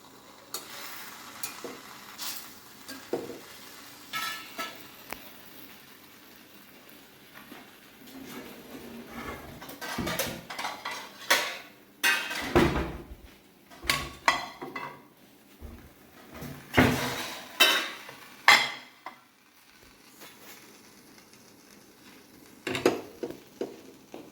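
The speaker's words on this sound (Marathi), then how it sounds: "मंद केला मी गॅस आणि हे आता मी भाजणार आहे" Fasting-style paratha made from singhara and rajgira flour with potato roasting on a pan over a low flame, with soft scraping, turning and clattering of a utensil, brief sizzles and intermittent knocks of pots and cutlery, close by with no talk.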